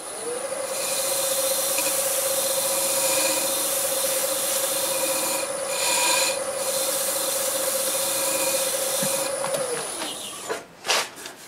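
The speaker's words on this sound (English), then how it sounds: "I'm going to go over it with the white Scotch-Brite." White Scotch-Brite pad rubbing a spinning wood-turned segmented piece on a lathe: a steady, loud, close abrasive hiss with a constant hum that runs for about ten seconds, then stops with a few light knocks.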